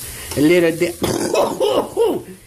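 Harsh, close coughing and throat noises come in several bursts mixed with voice, over a faint sizzling of taco filling cooking in a pan.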